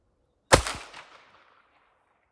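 A single sharp gunshot from a 1911 pistol chambered in .38 Super, loud and close, with a quick echoing decay trailing off over about a second before silence.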